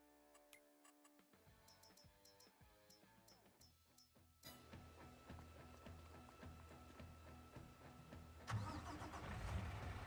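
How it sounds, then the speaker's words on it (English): A vehicle in Farming Simulator 22 starts up: a few dashboard clicks and chimes, then the engine cranks and catches partway through, settles into a steady idle and revs louder near the end. "The sounds of the vehicle"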